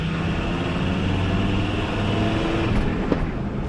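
A five-cylinder van engine idling or running, a steady low droning hum with a faint rising tone, continuous and close with a small click near the end.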